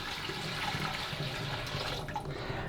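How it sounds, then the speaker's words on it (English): A kitchen sink tap runs steadily as water fills a Brita Aluna water jug, a continuous close hiss of flowing water with a brief thump at the end. "now over at the sink, you're going to fill it up"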